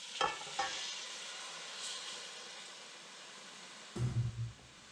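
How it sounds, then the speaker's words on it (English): Flour being stirred in a pot as stock goes in for a cheesy corn chowder, with a soft, continuous sizzle and scraping under a few sharper clatters of the spoon against the pot. "As I stir it, now we're going to add the stock."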